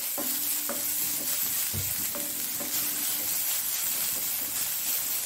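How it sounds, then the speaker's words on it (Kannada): Chopped onions fry in a spoonful of oil in a pan, giving a steady close sizzle and hiss with repeated scraping stir strokes, and no talking. "1 ಚಮಚದಷ್ಟು ಎಣ್ಣೆಯನ್ನು ಹಾಕೊಂಡು ಈ ಹೆಚ್ಚಿಟ್ಟಂತಹ ಈರುಳ್ಳಿಯನ್ನು ನಾವು ಫ್ರೈ ಮಾಡಿಕೊಳ್ಳೋಣ."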